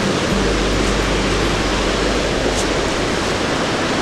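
A waterfall roars as a steady, loud, close-up rush of white water on rocky falls, with no break or change across the stretch.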